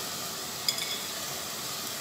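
Dried kachki fish hit a hot pan and sizzle faintly with a steady hiss, and a single light clink of a stirring utensil sounds near the start.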